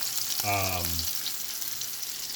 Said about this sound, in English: if you don't want the oil to be popping at you